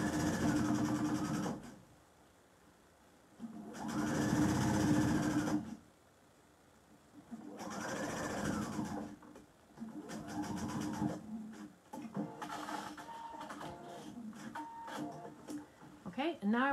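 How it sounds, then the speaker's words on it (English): A sewing machine stitches across the top hem of a fabric apron in several separate runs, each a few seconds long with quiet gaps between, the later bursts shorter and choppier, heard up close. "Secure the stitches and sew across the top."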